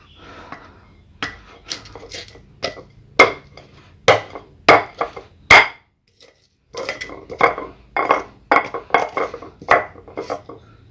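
Garlic and turmeric pounded in a stone mortar, a close, loud run of sharp knocking strikes in quick irregular bursts, briefly pausing midway before the hard pounding resumes.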